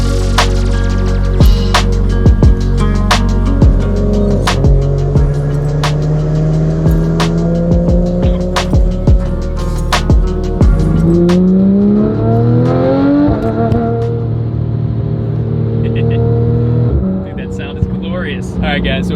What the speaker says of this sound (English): so we're going for a ride in Tommy's GT3 RS